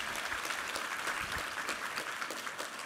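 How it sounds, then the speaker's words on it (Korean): A congregation at a church worship service claps steadily and warmly for a few seconds, a dense, even patter of many hands in a large room. "우리 하나님께 감사와 영광의 박수 올려드리겠습니다"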